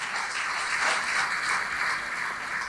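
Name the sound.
audience applause at a school centenary celebration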